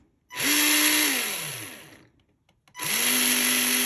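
A small electric motor in a Tamiya Grasshopper II RC buggy whines up to a high pitch, winds down, pauses briefly, then revs up again, a close buzzing hum with no talking.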